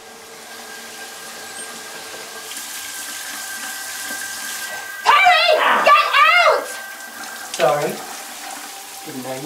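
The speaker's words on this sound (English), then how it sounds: "the running water didn't give you a clue?" Water runs from a tap into a sink in a quiet room, a steady low hiss beneath louder voices that break in midway.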